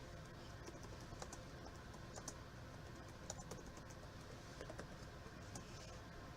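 Quiet, faint typing on a computer keyboard, scattered key clicks in an uneven rhythm with no talking.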